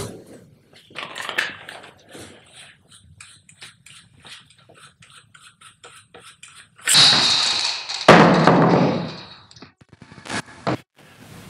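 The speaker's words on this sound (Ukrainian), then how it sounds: "І зараз будемо збирати рушницю." A Benelli M2 shotgun being put together up close: a run of small metallic clicks and taps, then a sharp clunk and a burst of louder rattling handling noise, with a few final snaps.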